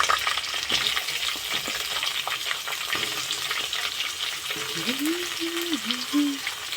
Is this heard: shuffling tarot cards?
no